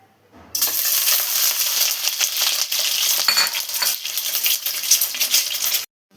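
Five eggs frying in coconut oil in a pan: a steady, close, bright sizzle that starts abruptly, crackles and spatters unevenly for several seconds, then cuts off, with no voices.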